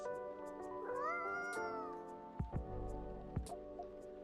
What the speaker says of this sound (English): Angry kitty.